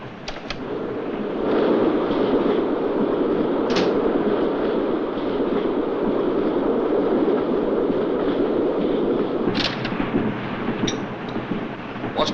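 A moving passenger train gives a continuous low rumble and rattle of rolling carriages, heard from inside, with a few sharp metallic clanks and squeaks breaking through, and no speech.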